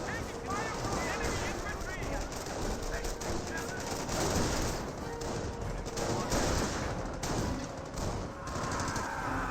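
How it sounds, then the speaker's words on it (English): Dense machine-gun fire rattles continuously in a Company of Heroes battle as .30 cal rounds strike an MG42 position, loud and unbroken, with talking mixed in. "I hear 30 cal hitting this MG42."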